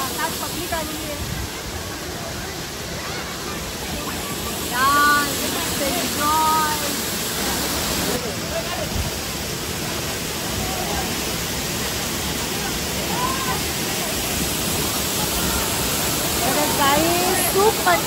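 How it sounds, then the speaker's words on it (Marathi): A waterfall at Bhavali dam near Igatpuri, Nashik, roars in a steady, dense rushing hiss close by, with someone talking faintly over the constant falling water. "किती जवळ बघा, किती मस्त धबधबा दिसतोय."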